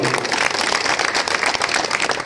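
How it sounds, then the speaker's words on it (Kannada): Audience applause at a Dr Shivarajkumar fan association gathering, a dense, steady wash of many hands clapping at once, sustained and fairly loud across the whole stretch without voices. "ಹೊನ್ನೇಗೌಡರು ದಯವಿಟ್ಟು ಅವರೆಲ್ಲರೂ ಹೃದಯಪೂರ್ವಕ ಚಪ್ಪಾಳೆ"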